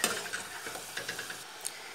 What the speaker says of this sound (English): So I've got my last lot in there frying